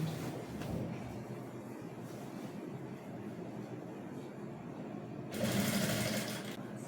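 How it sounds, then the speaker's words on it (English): A sewing machine stitches fabric for a bubu dress with a continuous close mechanical whir, quiet and even, growing louder toward the end. "So I'm going to place it on my machine. And I'll start at the back part. And I'm going to stitch it."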